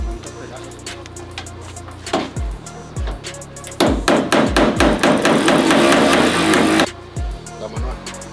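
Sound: hammer striking a socket

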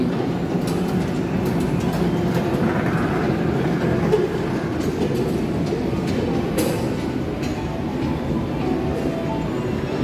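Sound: passing train

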